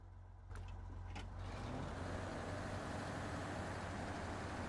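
A truck in a video game drives along a snaking back road, its low engine rumble swelling and then holding steady after a couple of brief clicks at the start.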